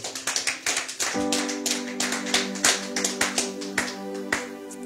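A church congregation claps to acclaim the Lord, a run of sharp, rhythmic claps close by, with a sustained tone and music-like hum running beneath from about a second in.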